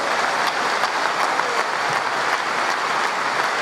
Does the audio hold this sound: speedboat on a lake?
no